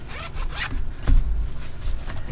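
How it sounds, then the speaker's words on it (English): Zipper on a tactical pouch drawn open in one continuous close rasp, with a louder tug about halfway through, no voices. "this is retained with a zipper as well"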